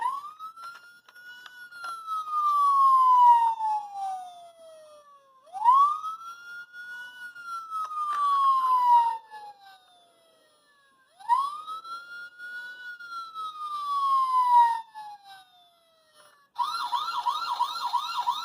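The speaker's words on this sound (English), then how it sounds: "this one does have the siren in it." A toy police siren wails in three rising-and-falling sweeps, close and fairly loud, then switches to a faster electronic warble at the end.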